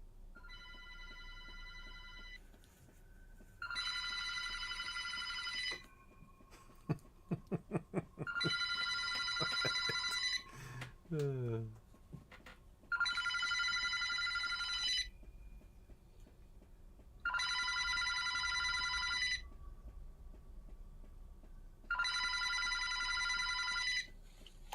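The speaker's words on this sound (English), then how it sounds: "another phone begins to ring." A telephone rings in regular electronic bursts, five rings spaced a few seconds apart, with a short clattering handling noise in the middle and quiet room tone between rings.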